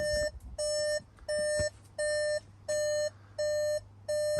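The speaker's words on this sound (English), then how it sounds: "the car still thinks it's not in park and just beeps constantly" Volkswagen Transporter dashboard warning chime sounding with the driver's door open while the van sits in park: a steady, regular series of identical electronic beeps, each about half a second long with short gaps, close and clear.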